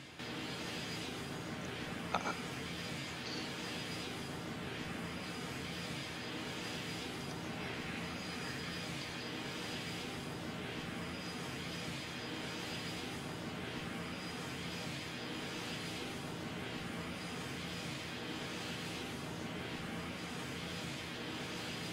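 Engines of an Antonov An-124 cargo plane in Roblox Aeronautica, flying at high altitude: a steady, even jet drone that holds level throughout, with one brief click near the start.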